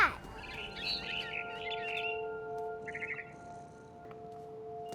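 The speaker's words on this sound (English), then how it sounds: "Then I heard chirping outside my window. It was a barn swallow going back to her nest." A barn swallow chirps outside a window in the video game What Remains of Edith Finch, giving a few faint, brief twittering calls over a quiet humming backdrop.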